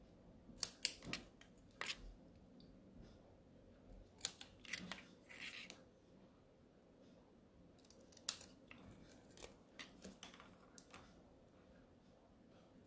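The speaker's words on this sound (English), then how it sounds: "And just grab my scissors here." Scissors snip repeatedly, crisp metallic cuts arriving in irregular clusters over a quiet background, close by.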